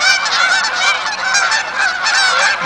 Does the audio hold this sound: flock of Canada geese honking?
yes